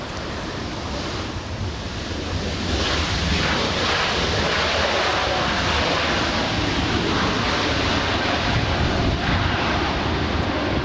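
An Airbus A321neo jet arriving at LAX builds into a loud, sustained roar with wind-like rushing, steady and broad from start to finish.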